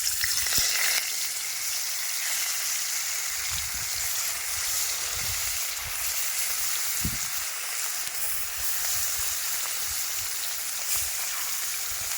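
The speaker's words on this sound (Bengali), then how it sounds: "কড়াইতে আবারও তেল দিয়ে দেবো মাছ ভাজার নিকে এই তেলের মধ্যে আর নুন হলদি মাহেরা মাছ দিয়ে দেবো" Fresh river fish, seasoned with salt and turmeric, sizzles in hot oil in a wok over an outdoor riverside fire, giving a steady, close, broadband frying hiss with faint low crackles and no talk.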